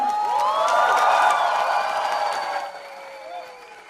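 A large concert crowd applauds and cheers loudly, with rising whistles and whoops over the clapping, before it thins and fades toward the end.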